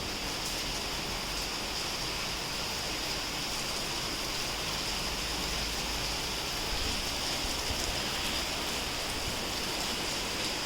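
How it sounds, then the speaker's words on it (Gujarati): Steady, even rain hissing without pause, a broad wash of sound with no voices or distinct drops standing out. "પણ અત્યારે થોડો વધી ગયો વરસાદ"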